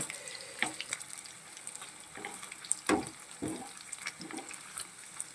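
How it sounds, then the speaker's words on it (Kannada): Paneer pieces fry in a pan with a steady, moderate sizzle, interrupted by irregular scraping and stirring sounds, close by and with no one talking. "ಒಂದು ಎರಡು ನಿಮಿಷ ಈ ಥರ ಪನ್ನೀರನ್ನ ಫ್ರೈ ಮಾಡ್ಕೋಬೇಕು"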